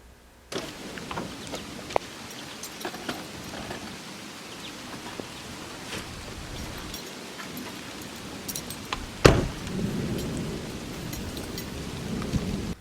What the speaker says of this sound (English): it's just about to pour rain outside